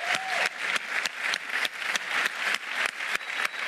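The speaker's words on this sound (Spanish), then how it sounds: "Vamos a dar otro aplauso a Black, coño, que se lo merece." A crowd applauds with sustained, dense clapping that fills the whole stretch at an even, lively volume.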